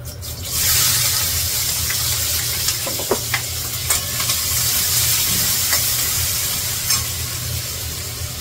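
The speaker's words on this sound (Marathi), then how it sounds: "डायरेक्ट कांदा परतायला घालते." Onion sizzles in hot oil with ground cumin paste in a home kitchen pan, a steady, fairly loud frying hiss with occasional stirring clicks and scrapes throughout, no voices.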